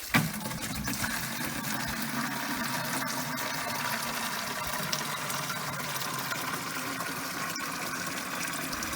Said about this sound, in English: So I'm going to go ahead and water these plants.